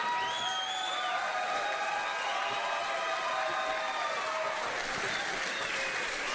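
Audience applause and crowd noise at a stand-up comedy show, a steady dense wash of clapping with scattered whoops and cheers, loud and sustained throughout with no pauses.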